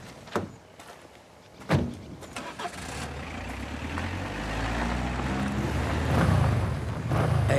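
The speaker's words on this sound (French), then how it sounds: "matez la moto qui arrive" A large motorcycle arriving: a low engine rumble swells steadily louder as it approaches, preceded by a few sharp knocks or clunks.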